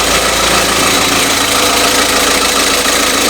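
An Audi TDI diesel with a DSG gearbox idles in a steady, loud, close drone with a faint rhythmic knock and no talking.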